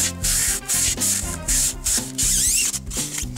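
Corrosion is scrubbed off the aluminium rudder shaft of a 37 ft Bavaria yacht, producing close, loud, rhythmic rubbing and rasping strokes in quick back-and-forth bursts with short gaps between them.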